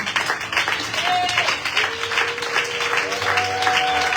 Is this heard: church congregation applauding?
yes